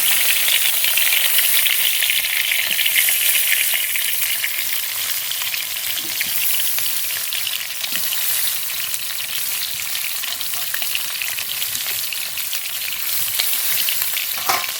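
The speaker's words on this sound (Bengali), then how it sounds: "পটলগুলো এবার বসিয়ে দেব" Pointed gourds (potol) fry in hot oil in a covered pan, giving a steady, loud, continuous sizzle and crackle throughout with no talking.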